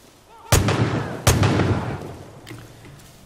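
Two loud, close gunshots in Far Cry, about three-quarters of a second apart, each with a long rumbling echo, followed by fainter shots in the distance.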